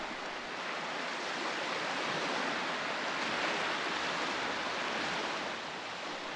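Small, choppy waves lap without pause on a driftwood-strewn Lake Superior beach as the wind picks up, a steady broadband wash with no voices.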